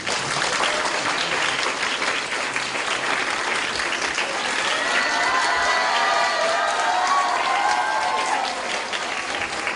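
A hall full of students at a girls' high school lecture bursts into vigorous, steady applause to welcome a guest speaker, with some cheering and excited voices rising in the middle.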